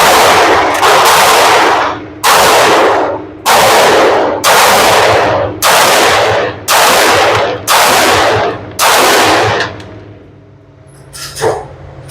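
A Palmetto State Armory Rock 5.7x28 pistol fires about eight loud, sharp shots at a steady pace of roughly one per second, each followed by a short ringing decay, then falls quiet apart from a small clatter.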